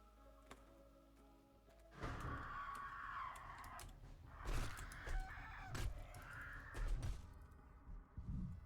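Bird clucks and squawks from the video game 7 Days to Die come in several loud, uneven bursts over a low background hum, with no one talking.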